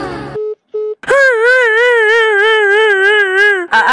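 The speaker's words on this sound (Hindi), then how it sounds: "रिंगटोन की आवाज इतनी तेज हो रखी है कि पूरी सिटी को आवाज सुन जाए।" Phone ringtone in the Indian Bikes Driving 3D video game, a few short beeps and then a loud sustained warbling electronic tone, close and without speech.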